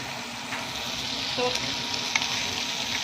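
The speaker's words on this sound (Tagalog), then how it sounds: "Saute in a little seconds or minute." Fried tofu and onion sautéing in a pan for tofu sisig, a steady soft sizzle throughout with a few faint stirring clinks, no talk.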